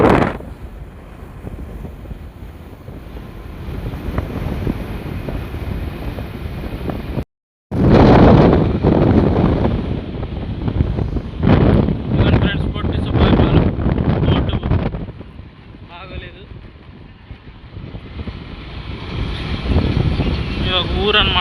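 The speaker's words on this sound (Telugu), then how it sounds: "గాలి బాగా వీస్తుంది ఫ్రెండ్స్" Strong wind at a beach near Vetapalem and Ramapuram roars and buffets the microphone in heavy gusts, with a short cut in the middle and a calmer stretch later. Faint voices mix in under the wind.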